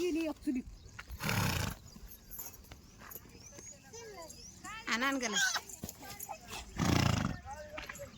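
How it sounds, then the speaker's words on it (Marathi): A three-year-old horse brought from Pune snorts in two loud, breathy bursts a few seconds apart, close by, with hoof clops and people talking in between. "फुरारला बाबा घोडा"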